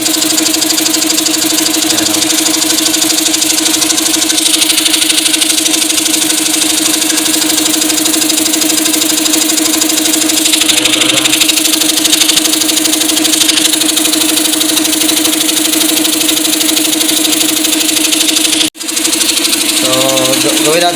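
A Vespa air compressor motor runs steadily with a constant mechanical hum and knocking drone, failing to build pressure; the drone holds throughout, dips briefly near the end, and a voice talks over it.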